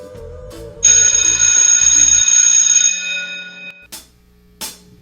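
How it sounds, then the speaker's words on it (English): A school-style class bell rings loudly and steadily for about three seconds, then cuts off, followed by two brief faint knocks. "Adi bell that? Class done, you know."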